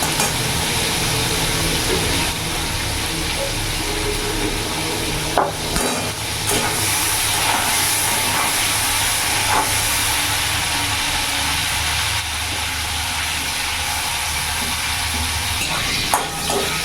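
Eight or nine shrimp fry in hot oil in a pan, a continuous crackling sizzle with a few sharp clinks and stirring knocks scattered throughout, with no talking.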